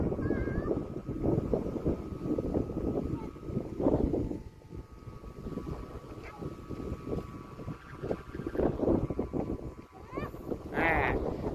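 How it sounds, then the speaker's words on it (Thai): Strong gusty wind buffets the microphone out in open harvested rice fields where a kite is being flown, a loud rumbling roar that surges and eases throughout while someone talks over it. "ลมมันแรงครับ นี่เล่นลมล่างไปก่อนลมบนนี่แรงกว่านี้"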